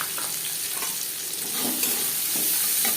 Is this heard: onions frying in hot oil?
yes